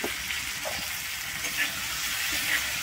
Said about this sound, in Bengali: আমি ফুলকপিটা কিন্তু ঢাকনা দিয়ে দিয়ে ভেজে নেব